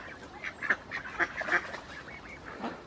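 Geese being fed at Little Dawley pools in Telford give a few quick honks in an uneven cluster, close and fairly loud, with soft outdoor background.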